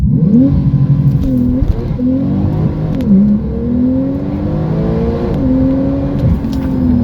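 A Porsche Turbo S launches hard on launch control, its engine droning loud and close with a rising, wavering whine that dips and climbs again through gear changes over several seconds.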